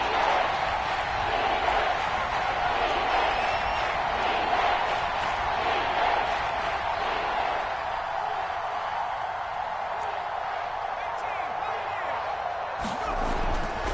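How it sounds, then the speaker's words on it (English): Stadium crowd in a New England football video game, a steady broad roar of cheering and chanting holding at an even level throughout ahead of a big third down. "The crowd getting into it as we come up on a big 3rd down."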